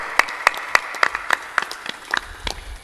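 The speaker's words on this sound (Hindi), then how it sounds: "थोड़ा जोरदार ताली बजाया करो आप लोग" Audience clapping at a satsang gathering: a handful of sharp, evenly spaced claps that settle into a short, scattered patter with a faint low murmur beneath.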